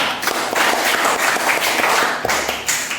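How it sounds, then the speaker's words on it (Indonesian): Pupils in an elementary school classroom clap together in a steady run of sharp, close claps, with no talk over them. "Oh, tepuk tangan"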